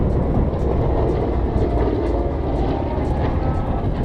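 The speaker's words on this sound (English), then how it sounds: "The sound you're hearing comes from a pair of Pratt & Whitney R2800 radial engines." An A-26 Invader with twin Pratt & Whitney R2800 radial engines drones in a continuous, heavy low rumble at an airshow, sustained and fairly loud throughout with no talking over it.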